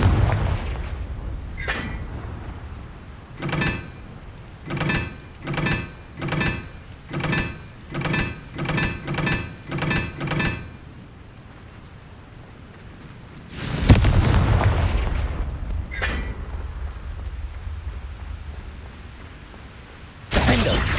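In the video game Hogwarts Legacy, Confringo fire spell explosions boom one after another in a rapid, regular series of about ten blasts, followed by a larger, longer roaring blast and later another sharp burst.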